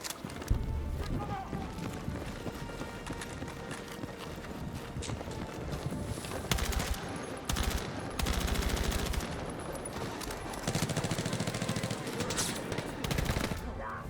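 Gunfire in the video game Battlefield 6, with dense bursts of automatic fire and overlapping shots over a steady stretch of noisy combat audio, mixed with a player's voice talking.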